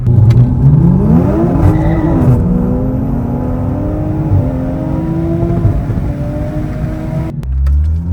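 A Toyota Supra with a transmission tune accelerates hard from inside the cabin, engine pitch climbing and dropping through several quick gear shifts, loud and continuous, ending with a brief lull and a thump.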